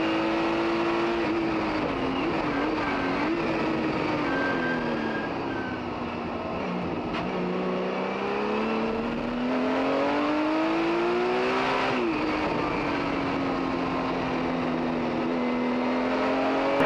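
A Porsche 935 race car, number 12, races alone down the Corkscrew hill at Monterey, its engine loud and steady with rising and falling pitch as it shifts and brakes through the turn.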